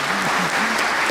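Applause at an Indonesian evening awards announcement, steady dense clapping from a gathered audience filling the whole short stretch at even loudness, with no one speaking over it.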